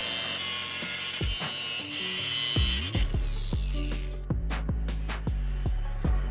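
Metal ears being cut off a motorcycle front motor mount, heard as a series of sharp, close cutting strokes with ringing metallic clanks, loud and with no talk.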